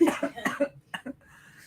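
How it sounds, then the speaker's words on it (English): Several sharp, close coughs in quick succession, followed by a brief pause and two more coughs. "I just want to like go to the side and cough"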